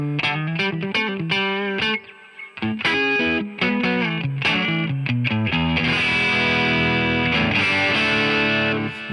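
Electric guitar played through a King of Tone style overdrive on a Fender ToneMaster Pro with reverb, crunchy distorted chords and picked notes ringing out loud and close, with a brief pause before the strumming builds into sustained, thick chords.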